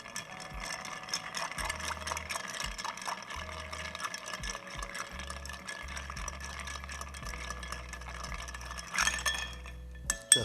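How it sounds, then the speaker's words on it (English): Ice clinking and rattling against a mixing glass as an Old Fashioned cocktail is stirred, a quiet, close, irregular series of clicks and chinks with a louder clatter near the end. "Now I'm gonna add the ice and give it a nice stir."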